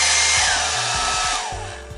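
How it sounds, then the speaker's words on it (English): A handheld blow dryer running on its low setting, blowing across pen-and-ink artwork on paper: a steady airy whir with a faint motor hum that holds alone, easing off slightly at the end. "I have my blow dryer here. I'm gonna put this on low"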